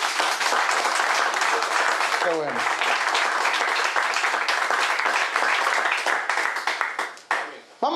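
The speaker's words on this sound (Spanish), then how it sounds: "Regálenle un aplauso a la gente que nos están" A crowd applauds loudly and steadily for several seconds, the clapping thinning out near the end; a voice speaks briefly early on.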